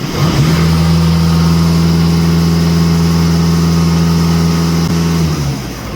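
A VW Passat bi-turbo diesel engine is held at a raised, steady rev, a loud, close, droning hum that holds even pitch for several seconds before easing off; no speech.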